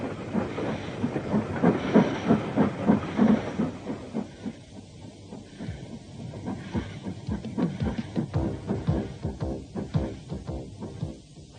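A British railway train departs on what seems the last run on its line, with a low rumble, hissing and repeated rhythmic clanks and chuffs, fairly distant and steady over several seconds.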